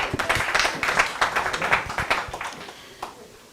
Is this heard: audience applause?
yes